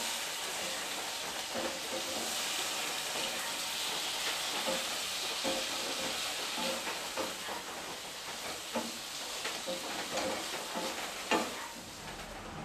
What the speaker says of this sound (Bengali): সামান্য একটু জল দিয়ে সবজিটাকে ভালো করে কষিয়ে নেচ্ছি।